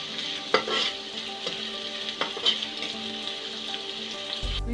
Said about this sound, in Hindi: और इसी में मैं प्याज डाल दूंगी। इसे थोड़ा मुलायम होने तक पकाएंगे।